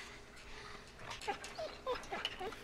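A dog in The Walking Dead Season 2 video game whimpers in a few short, high, whining cries over a low game background, growing slightly louder toward the end.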